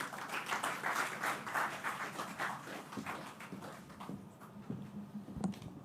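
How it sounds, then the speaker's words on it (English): Clapping from a small crowd at an opening and ribbon-cutting ceremony for a learning centre, honoring the Minister of Education; scattered, fairly close claps that fade out after a few seconds, leaving quiet room noise. "Give her a round of applause."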